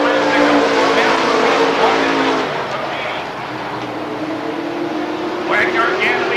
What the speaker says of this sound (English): Here they come, Wagner to the inside out of 4